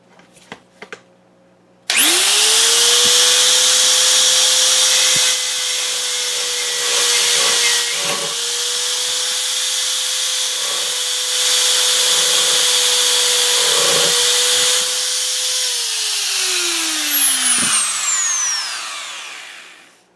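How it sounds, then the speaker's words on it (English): A rotary tool fitted with a sanding drum starts with a sharp whine and grinds steadily on a Feiyue FY06 RC car suspension part, its buzzing pitch dipping briefly under load, then spins down toward the end. "so we got our little sanding drum in the rotary tool"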